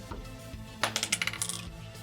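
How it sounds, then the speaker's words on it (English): Several dice tumble and clatter onto a hard tabletop during a Vampire: The Requiem tabletop role-playing session, giving a quick burst of close, bright rattling clicks that settle within about a second. "So I am once again rolling 6 dice"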